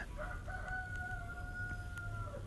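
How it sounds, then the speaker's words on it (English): A rooster crows in one long sustained call lasting about two seconds, fairly close and clear above a low rumbling background with no talk. "You hear the roosters"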